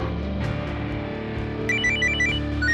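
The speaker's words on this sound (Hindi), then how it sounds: "अरे फोन किसका?" A phone ringtone plays a repeating electronic melody over a steady background hum, starting partway through and continuing to the end.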